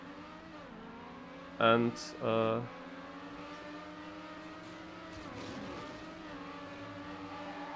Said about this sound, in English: I will take the music off, make my engine sound a bit louder.